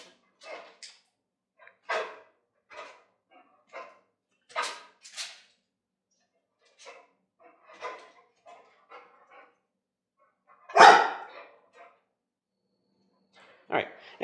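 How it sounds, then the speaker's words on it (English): A dog barks in short, sharp bursts in a workshop while chasing reflected light off a welded steel rule cutting die. The barks come close and intermittent, mixed with yips and whimpers. "And my dog is chasing reflected light off of it."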